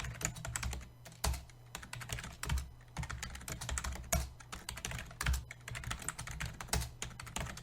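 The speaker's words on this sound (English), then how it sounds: "What I'm typing is I'm typing the names of events" Rapid typing on a computer keyboard, with bursts of close, crisp key clicks and short pauses between words, quiet and with no talking.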